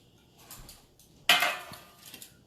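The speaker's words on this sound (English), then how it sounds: "And what we need to do is grab my pan." A metal pan clatters once sharply when grabbed in a home kitchen while making biscuit-dough pizza, preceded and followed by faint handling rustles.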